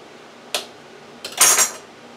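A knife cuts through butter on a hard surface for a three-cheese rotini mac and cheese, two short sharp knocks, the second a brief scraping cut, with quiet room tone between.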